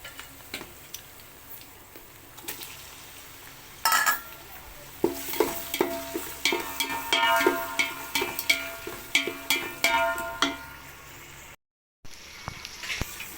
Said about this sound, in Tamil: ஆனியன் ஃப்ரை ஆகிடுச்சு. இப்போ தக்காளி போட்டுக்கலாம்.